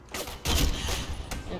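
Bursts of gunfire in the online shooter Black Squad, a dense fusillade swelling midway and holding steady, with a brief sharp crack near the end.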